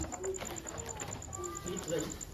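Pigeons or doves coo softly in short, repeated calls with faint chirps, set against a busy ambient background where voices can be heard.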